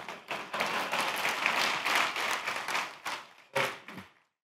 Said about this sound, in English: Now I know what gets you to clap.